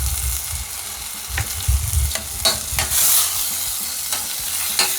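Tomatoes and puree sizzle softly in a pan while a spoon scrapes and stirs through them in several brief strokes, close and steady with no talk.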